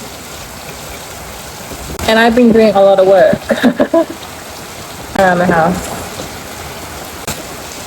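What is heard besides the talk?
rain falling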